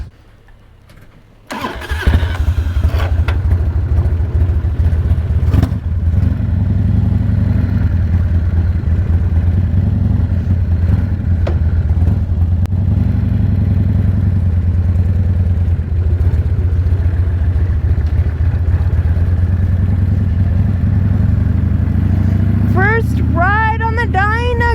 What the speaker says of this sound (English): we're gonna go for our first ride on the Dyna